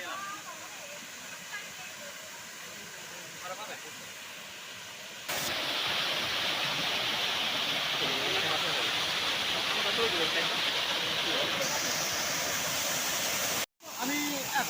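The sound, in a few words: Rupshi waterfall cascading, Kamoldaho trail, Mirsharai, Chittagong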